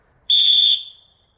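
A single sharp, high dog-training whistle blast during retrieve training, about half a second long, loud and close, fading quickly with no talk.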